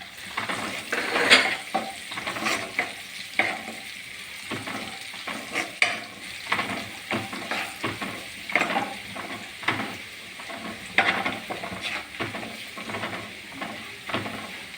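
Spoon stirring narthangai pickle with spice powders in a hot pan, rhythmic scraping strokes over a soft oily sizzle, close and steady.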